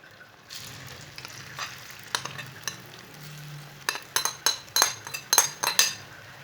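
Leftover roti pieces, mixed and tossed into hot oil in a pan, frying with a soft steady sizzle under a run of sharp metallic spoon scrapes and clinks that grow louder and more frequent toward the end.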